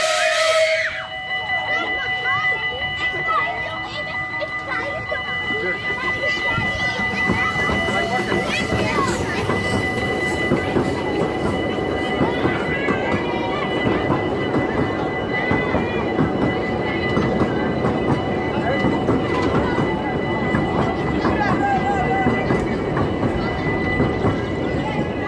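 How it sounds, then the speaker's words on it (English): A train rumbles past steadily for a long stretch at the Efteling theme park, its whistle sounding briefly at the start, while a person talks over the noise. "See if we get a bit of footage of the train for you, as it's actually coming along now."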